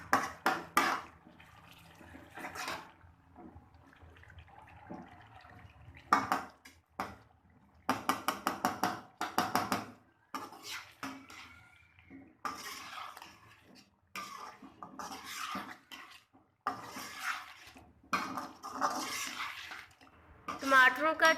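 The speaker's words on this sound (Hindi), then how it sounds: "अब हम इनको चम्मच के साथ तोड़ देंगे और चिकन के अंदर अच्छी तरह से मिक्स कर देंगे।" A spoon breaks up soft tomatoes and stirs them into chicken karahi in a pan, giving wet squelching and metallic scraping in repeated bursts with pauses between them.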